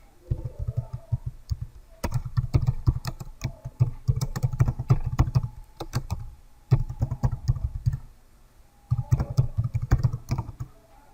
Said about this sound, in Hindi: अब टाइपिंग शुरू करें।